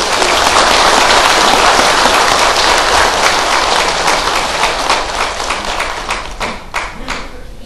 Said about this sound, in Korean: 박수 한번 큰 박수.